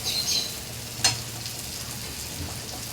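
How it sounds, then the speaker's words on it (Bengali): Hot water poured into simmering dhoka curry in oil, a steady soft sizzle throughout with one brief sharp splash-like burst near the middle, close and moderately quiet. "গরম জল দিয়ে দিলাম"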